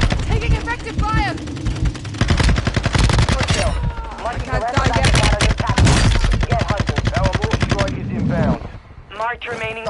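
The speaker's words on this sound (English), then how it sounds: "Taking effective fire." Rapid automatic gunfire rattles through a Call of Duty Warzone match, dense bursts of loud close shots chaining almost continuously with brief pauses, while voices talk over the fighting.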